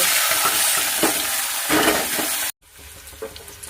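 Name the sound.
prawns frying in hot oil in a wok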